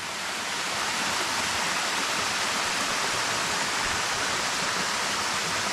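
Tad Kon waterfall in Muang Xon, Houaphanh, pours with a steady, even broadband rush that stays constant and fairly loud throughout, with no voices.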